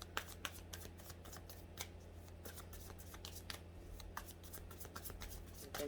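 Animal oracle cards being shuffled in a rapid run of crisp, papery flicks and taps, fairly close and moderately loud over a low steady background hum, with no talking.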